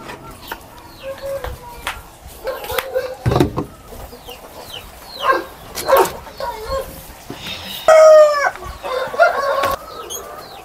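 Hungry farm chickens call close by in scattered bursts of clucks, squawks and sharp cries, with an occasional crow, over quiet farmyard background.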